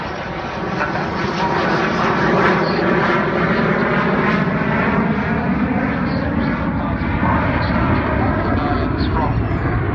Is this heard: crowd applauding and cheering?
no